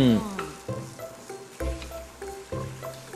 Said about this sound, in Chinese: 给它简单爆香一下，香味出来，因为等一下要炒的很快